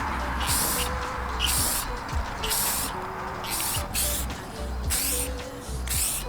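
Short hissing bursts of spray paint or clear coat misted onto carbon fiber trim on a car, light passes around the edges and up to the wing, repeating in quick pulses over a steady low background.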